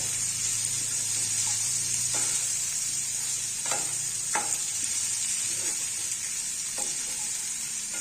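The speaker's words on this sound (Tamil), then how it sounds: "இதை நல்லா வதக்கி கொடுத்துக்குவோம்" Pallipalayam chicken sautéing in a pan gives a steady, close sizzling hiss, broken by a few faint scrapes and clicks of stirring.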